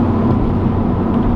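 A Saab driving with its turbo spooling under a steady, loud engine and road drone inside the cabin, brief and continuous.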